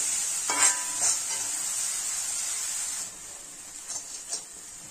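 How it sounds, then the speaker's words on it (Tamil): Ground masala paste sautéing in a pan for chicken varuval, with a steady close hiss and a few bursts of stirring and spattering. It quietens partway through, then two more short stirring bursts follow. "இதுல நம்ம அரைச்சி வச்சிருக்கிற பேஸ்ட்டை சேர்த்துடலாம். இதை வணக்கிக்கலாம்."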